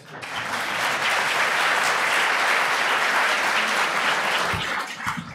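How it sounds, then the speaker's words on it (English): A crowd applauds steadily, a dense wash of clapping that swells quickly and holds at full strength before easing slightly at the end. "I think he deserves a round of applause."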